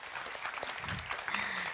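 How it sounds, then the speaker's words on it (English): Applause from a conference audience at a session on equality data, a steady wash of clapping that swells toward the end. "Let's give him a warm applause."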